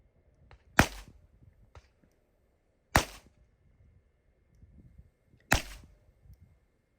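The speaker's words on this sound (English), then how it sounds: "I will fire 6 rounds on the left target, also within 40 seconds" A handgun fires three sharp, loud shots at an outdoor range during a Florida security license shooting qualification, spaced roughly two to three seconds apart, each a crisp crack with a short decay and quiet in between.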